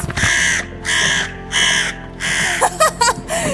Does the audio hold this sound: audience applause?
no